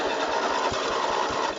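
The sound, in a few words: tractor engine being started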